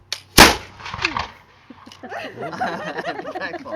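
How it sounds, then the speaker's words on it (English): A French soldier fires a flintlock musket outdoors at Niagara Fort, a single sharp, loud crack with a brief rumbling tail, followed by people chattering and exclaiming nearby. "You present the musket at the target, and hopefully, feu."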